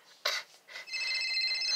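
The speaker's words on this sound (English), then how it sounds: "My phone's ringing!" A telephone rings with a steady electronic trill, starting after a couple of brief bright chirps and continuing at a moderate, fairly clear level with no talk over it.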